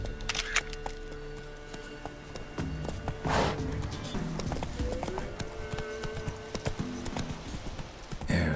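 Roach, a horse in The Witcher 3, gallops with a steady clip-clop of hooves that persists through the whole stretch, moderately loud, alongside other game sounds and no talk.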